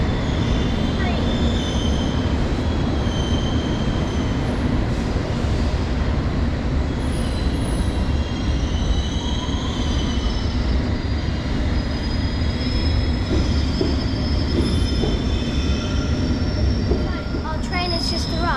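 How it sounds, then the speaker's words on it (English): A London Underground Metropolitan line train pulls into a platform at a Zone 1 terminus, a loud sustained rumble of wheels and motors with metallic squeals and hiss rising near the end. "Our train has just arrived"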